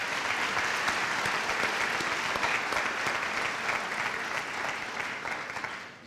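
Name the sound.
audience applause at nursing pinning ceremony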